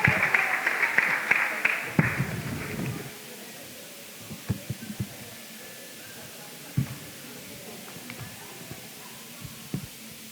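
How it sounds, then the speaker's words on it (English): Audience applause at a 2023 school graduation ceremony, a dense burst of clapping for the deputy head girl that fades after about three seconds, leaving quiet hall noise with occasional thumps. "keep that applause going for Kaylin Russell, our deputy head girl"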